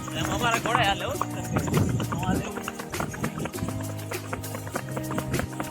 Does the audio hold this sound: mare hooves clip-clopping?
yes